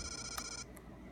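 A telephone rings inside a phone booth in the Game Boy Color game Link's Awakening DX: a short electronic chiming ring with a bright tonal pattern, a sharp click, then a brief fading tail.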